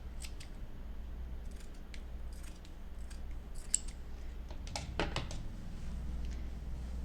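Scissors snipping through paper or fabric in a stitchery and sewing setting, a series of quick, crisp, light cuts clustered in bursts over a low steady background hum, close but faint, with no talking.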